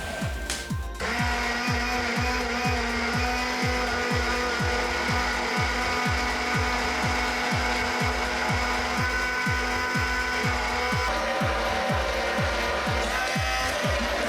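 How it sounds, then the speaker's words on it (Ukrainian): A hand blender whirs loudly and continuously, with a rhythmic pulsing churn as it is worked up and down through egg and oil, whipping homemade mayonnaise. "Внизу яйце, блендер і зверху наляли олію. І починаємо поступово взбивати."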